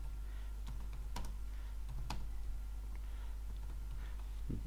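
Typing on a computer keyboard produces quiet, scattered key clicks at an uneven pace over a low steady hum, with no talk.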